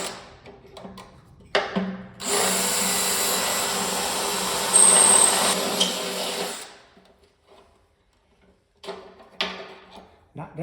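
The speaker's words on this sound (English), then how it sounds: "And then I'll just go around and drill the rest of them." A power drill boring holes during a DIY single-line fuel system install for a Jeep, one continuous loud whirring burst of about four seconds between quiet moments and faint handling noises.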